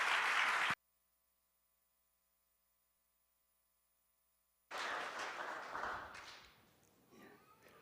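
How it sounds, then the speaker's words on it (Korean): Applause in a church at a Friday late-night prayer meeting, welcoming a missionary to the pulpit: a short burst of clapping, a sudden stretch of near silence with faint hum, then another broad wash of clapping that fades. "박수 한번 합시다."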